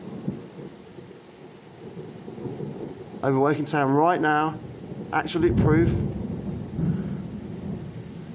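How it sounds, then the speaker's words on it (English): Thunder rumbles and rain falls during a severe thunderstorm over Woking town, a low broadband roar running throughout beneath a man's excited speech, with a heavier rumble swelling midway. "This is a mega thunderstorm over Woking Town right now."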